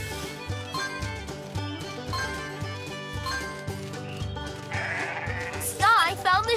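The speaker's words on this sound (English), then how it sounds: "the sheep. Now we need Chase to help move them off the road." Cartoonish sheep bleats from the video game Paw Patrol On A Roll sound over a bouncy looping game soundtrack, with a burst of whooshing effects near the end.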